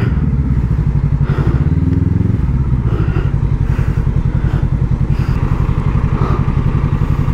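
Close, steady engine rumble from several motorcycles idling and creeping along together, with pulsing exhaust and occasional revs, no voices.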